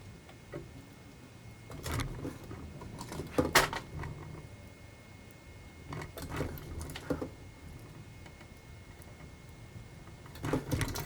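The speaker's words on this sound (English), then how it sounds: "I'm going to start at the top, work a little flathead in there, and try to pull this yellow part out" Flathead screwdriver working at a yellow clutch switch part on a BMW E36, giving scattered clicks, scrapes and small knocks in bursts with quiet gaps between.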